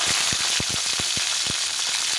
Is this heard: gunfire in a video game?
no